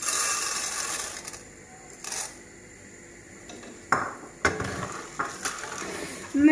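Corn kernels hit melting sugar in a stovetop pan, giving scattered clinks, light rattling and scraping stir sounds over a soft sizzle, fairly quiet, with no talking.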